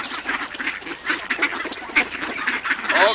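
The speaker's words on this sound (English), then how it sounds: "I'm surrounded by ducks." Several ducks quack close by, overlapping nasal calls coming in irregular bursts with no one speaking.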